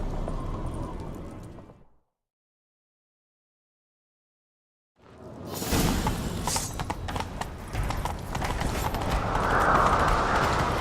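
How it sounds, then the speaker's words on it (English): A horse's hooves clopping in a steady gallop in the video game The Witcher 3, starting after a few seconds of silence and building louder with a rushing background. "Grab a horse, we'll chase him down."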